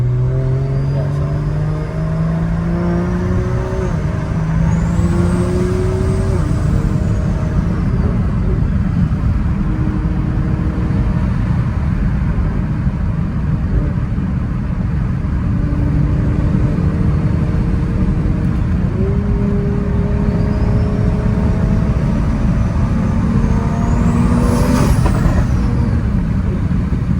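A tuned BMW X3 M40 engine drones and whooshes steadily for a long stretch, with rising whistling turbo-like tones appearing twice, loud and close.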